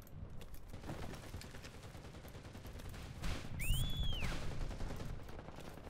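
Machine gun fire in the shooter CRSED: F.O.A.D., a burst of rapid shots amid ongoing game noise, with a rising and falling whistle-like tone partway through.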